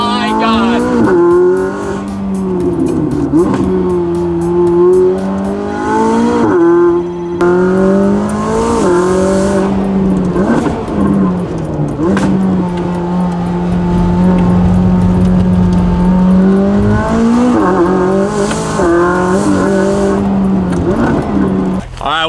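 An 800-horsepower McLaren supercar revs hard and spins its tires, its loud, close engine climbing and falling through repeated throttle blips with tire squeal, while excited voices talk over it.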